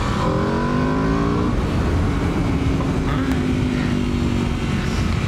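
An Aprilia RSV4 motorcycle on a test ride gives a loud, close, continuous engine roar whose pitch climbs steadily as it accelerates, then holds a sustained high drone.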